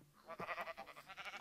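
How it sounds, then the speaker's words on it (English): A sheep in the Minecraft video game gives one quiet, wavering bleat lasting just over a second. "we got some sheep."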